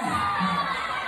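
A crowd of schoolchildren in a Brooklyn school assembly shouts out at once, a loud, overlapping burst of young voices yelling and cheering throughout.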